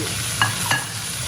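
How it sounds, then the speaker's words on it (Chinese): Cabbage and tofu stir-fried in a wok, a low steady sizzle broken by two quick scraping tosses of a spatula, close and fairly quiet. "继续翻炒。"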